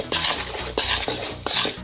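Flour and salt being stirred together in a bowl, a utensil scraping and clinking against the sides in steady repeated strokes, close and alone without talk.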